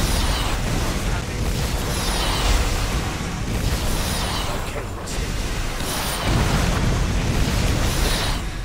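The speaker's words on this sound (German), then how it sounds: "Ich weiß, diese Explosion." Loud, rumbling explosions in Borderlands boom repeatedly over a dense, continuous roar of noise, with a fresh blast hitting near the end.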